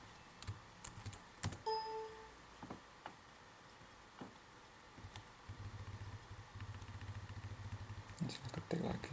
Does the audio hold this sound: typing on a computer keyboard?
yes